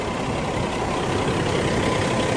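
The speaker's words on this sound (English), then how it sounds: "Engine is running excellent on this truck." A 2005 Peterbilt 379 fleet truck with a C13 engine idles close by in a steady, even low rumble for a couple of seconds, with no voices.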